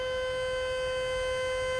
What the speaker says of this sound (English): that siren tells us that a fifth floodgate has now opened to relieve the pressure from upriver